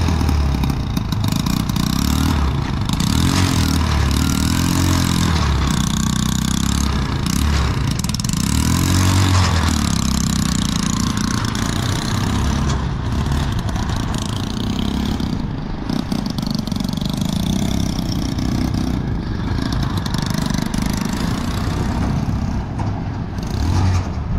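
An old motorcycle engine, converted to power a farm goods trolley, runs loud and close for the whole stretch, idling steadily with a few throttle swells in between.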